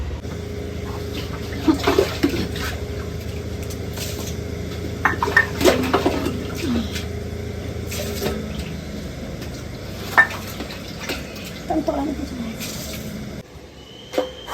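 Water being scooped and dragged with a saucepan inside a large household water tank during cleaning, giving irregular sloshing, splashing and metallic scraping clatters at close range, with some soft background sounds.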